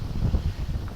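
Outdoor wind buffets the microphone beside a Dadant beehive, producing low, uneven rumbling gusts that swell and drop in quick pulses, fairly loud and close, with no speech.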